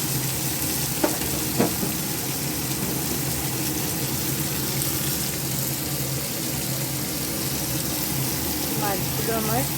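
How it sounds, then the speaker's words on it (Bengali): Pieces of fresh katla fish fry in a pan with a dense, steady sizzle and crackle, a few sharp pops near the start, and a faint voice in the background toward the end. "মাছগুলো আমার প্রায় ভাজা হয়ে গেছে।"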